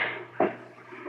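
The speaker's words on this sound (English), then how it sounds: "Something closed the front door." A front door in an old haunted mill shuts in a radio drama sound effect, a single muffled thump with a short scrape, close and moderately loud against a quiet room tone, with no voices.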